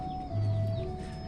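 Chickens cluck softly nearby over a steady background hum, with a short low clucking call in the middle.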